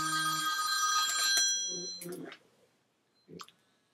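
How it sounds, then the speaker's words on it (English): A telephone bell rings in a room with a bright, harmonic ring for about a second and a half, then cuts off, followed by faint handling noise and a brief knock. "Excuse me while I go and answer the phone."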